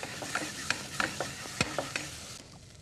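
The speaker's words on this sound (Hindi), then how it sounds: "इन दोनों मसालों को भी भूनना है हमने इसके अंदर" Turmeric and coriander powder roasting in a pan, with a steady soft sizzle under a few sharp scrapes and clicks of a spoon stirring against the metal, close and fairly quiet.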